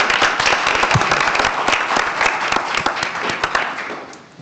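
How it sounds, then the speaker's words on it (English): Attendees at a board of education meeting give a round of applause welcoming members back, dense loud clapping from a room of people that tapers off toward the end. "I'd like to have a round of applause to welcome everybody back"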